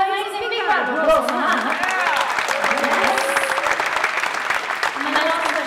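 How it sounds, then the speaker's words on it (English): An audience in a concert hall breaks into steady, dense applause, a continuous wash of clapping that fills the whole stretch, with crowd chatter faint beneath it. "Oh, amazing, big round of applause"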